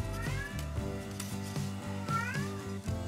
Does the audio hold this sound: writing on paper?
no